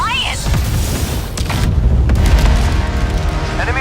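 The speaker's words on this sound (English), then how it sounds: "artillery intensifying" Heavy artillery booms and rumbling barrages thunder from a video game battlefield approaching a land battleship, a continuous loud low roar with scattered impacts under voices calling out over radio.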